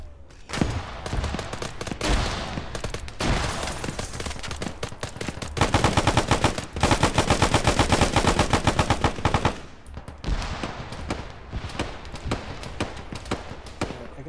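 Video game gunfire comes close and loud in long automatic bursts, with a dense, fast, evenly pulsed stretch in the middle and choppier, irregular volleys before and after.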